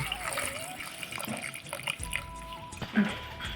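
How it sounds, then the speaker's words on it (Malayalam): Water poured into a pressure cooker of sambar ingredients gushes and splashes briefly at close range, with a voice talking over it. "ഇത് വേകുന്നതിനാവശ്യമായ വെള്ളം കൂടെ ഒഴിച്ച് കൊടുക്കാം"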